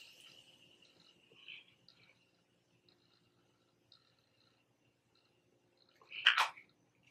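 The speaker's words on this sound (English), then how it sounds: "we are going to be completely setting our face with the Morphe Continuous Setting Mist" Morphe Continuous Setting Mist sprays onto a face in a short, close, hissing burst near the end, following faint earlier rustles in a quiet room.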